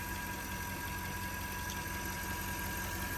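Steady, even idle of a Range Rover engine, a continuous mechanical hum and faint vibration with no change in pitch, heard close and without any voices.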